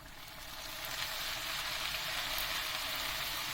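Chopped onions sizzle in hot oil with madımak greens, a steady bright frying hiss that swells slightly at the start and then holds level, close and continuous.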